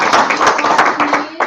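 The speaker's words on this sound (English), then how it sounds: "Let's give her one more round of applause." A small audience at a St. Louis machine learning and data science meetup claps in a brief burst of distinct, fairly close hand claps over about a second and a half, with a faint voice underneath.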